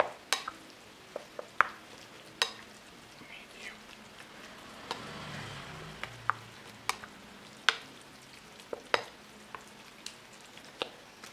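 Garlic, onion and vegetables for a spring roll filling are stirred in a pan: quiet, scattered spatula clicks and scrapes over a soft, low sizzle, with a faint voice now and then.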